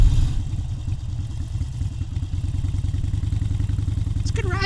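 A Harley-Davidson Sportster Iron 883 motorcycle riding on Route 66, its engine a steady, loud, close pulsing thrum, with a faint rising whine near the end.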